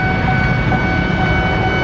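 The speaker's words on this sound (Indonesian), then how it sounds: "Karena ada kereta mau melintas." A train passes close by on a railway track, producing a loud continuous rumble with steady rolling noise and a few faint tonal whines throughout.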